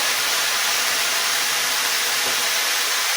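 Bacon browning in a pan for chili gives a steady, dense sizzle and hiss that stays even and close throughout, with no voices.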